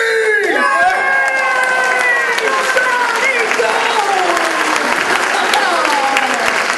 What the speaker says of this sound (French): Applaudissez-le chaleureusement.